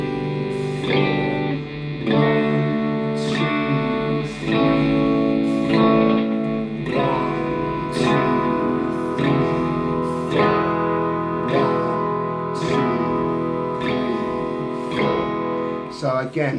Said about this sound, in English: let's now try strumming through our chords sequence